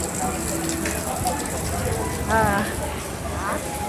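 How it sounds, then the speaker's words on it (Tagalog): Heavy rain in Hong Kong pours in a dense, steady hiss, while people's voices break in briefly over it. "Lakas ng ulan pa rin."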